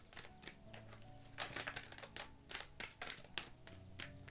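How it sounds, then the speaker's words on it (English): Tarot cards being shuffled by hand during a reading, a soft run of papery riffles and crisp card snaps repeating in short bursts, close by, over faint background tones. "one last shuffle"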